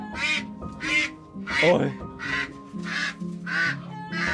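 Ducks and geese quack in a series of loud, close, rhythmic calls from beneath a stilt house in a Hà Giang village, with a voice briefly exclaiming between them.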